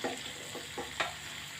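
Hot ghee tempering with mustard seeds, asafoetida, urad dal, chana dal and cashews, giving a soft steady sizzle with a few faint crackling pops, close and fairly quiet.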